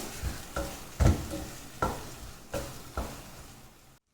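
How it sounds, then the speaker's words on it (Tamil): A spoon scrapes and stirs masala for Kumbakonam kadappa in a hot pan in a steady rhythm of about seven strokes over a soft sizzle, then the sound stops abruptly. "இப்போ இதையும் சேர்த்து நல்லா வதக்கி விட்டுக்கலாம்"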